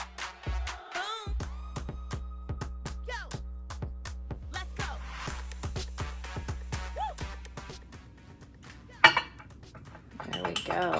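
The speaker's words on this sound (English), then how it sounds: "Melt 20 seconds and then stir." A spoon clinks and scrapes repeatedly against a bowl while stirring melting chocolate, a quick run of sharp close taps easing into softer scraping, ending with a louder clank and a handling rustle.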